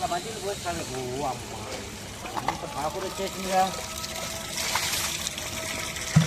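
Water pours and gushes into a container, a continuous rushing that swells toward the end while people talk over it.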